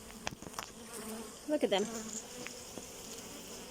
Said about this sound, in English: those bees, as you can tell, they're already coming for me.